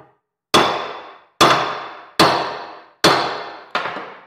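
A chromoly axle shaft is hammered into place in a vehicle axle housing, giving five sharp metallic clangs spaced roughly a second apart, each ringing briefly before the next strike.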